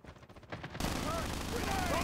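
Gunfire in the mobile video game Call of Duty Mobile, starting as quieter rattling bursts, then jumping to a loud, dense stretch of shots and blasts, with a voice speaking underneath.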